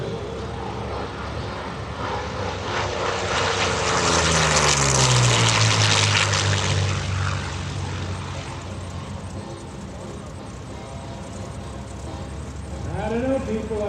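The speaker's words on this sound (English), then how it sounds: "I think he's having way too much fun with his airplane." A P-40 Warhawk propeller fighter flies low at an airshow, its piston engine roar swelling loudly as it passes close with a falling pitch sweep, then fading to a distant drone before rising again.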